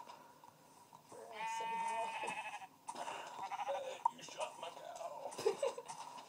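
Sheep in a survival video game bleat in a wavering run near the middle, then give shorter calls toward the end, over background game sounds with some voice-like noise.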